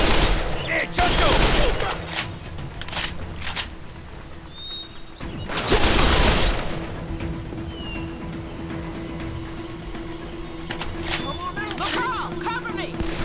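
Gunfire in the shooter game Call of Juarez: The Cartel, with loud bursts near 1, 3 and 6 seconds standing out over a steady hum, broken crackles in between, and voices shouting through the fight.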